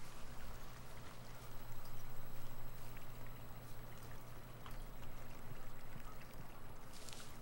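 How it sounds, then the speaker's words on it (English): Water runs steadily through a river or creek in the video game Firewatch, a continuous bubbling rush heard close by and alone, with a brighter splash near the end. "And here is our river slash creek."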